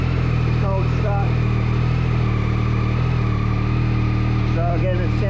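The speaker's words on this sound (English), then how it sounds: "what we've got now is sound of the exhaust, the stock exhaust, cold start" A Yamaha XSR900 motorcycle idles steadily on a cold start through its stock exhaust, with a deep, rumbling note, close and loud, with a faint voice briefly in the background.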